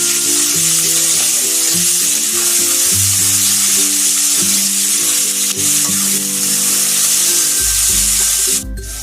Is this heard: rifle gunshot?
no